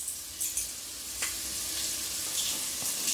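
Italian herbs, cumin, paprika and thyme frying in a hot pan, giving a steady close sizzle with a few brighter crackling bursts and no talk.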